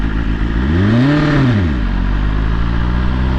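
Motorcycle engine revved too hard while the clutch is let out, a loud rising and falling engine sweep over a constant idle drone, close to the microphone.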